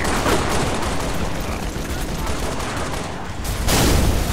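Sustained gunfire in the shooter Halo: Reach, a dense, continuous stream of shots with a louder burst near the end, mixed with battle noise and some talk.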